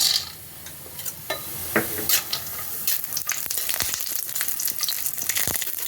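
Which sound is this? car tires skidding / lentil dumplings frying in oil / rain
lentil dumplings frying in oil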